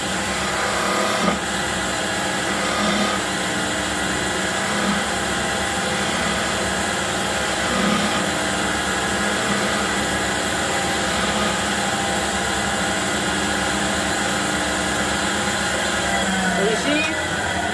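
Spindle gouge scooping out a wood blank on a spinning wood lathe, a steady continuous whirring scrape with rough grinding texture held throughout, fairly loud and close, with a few brief knocks.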